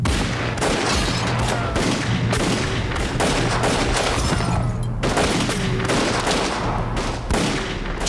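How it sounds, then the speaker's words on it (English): A rapid, loud volley of gunshots, about twenty rounds fired inside a small store during a robbery, dense overlapping cracks and booms filling several seconds. "Twenty rounds flew through that small store in just a few seconds."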